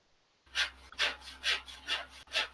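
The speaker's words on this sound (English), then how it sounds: "You sawing, Phil?" Rhythmic hand sawing of wood, five steady back-and-forth strokes at an even pace, fairly close and moderately loud over a low background hum.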